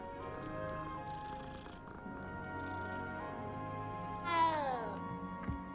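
A cat meows in the video game Hogwarts Legacy, one short rising-and-falling meow near the end over a steady layer of game music and ambience.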